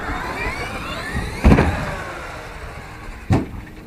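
A Traxxas X-Maxx RC truck's electric drive whines and stutters with an off-throttle glitch, two abrupt clunking bursts standing out over the motor's faint hum.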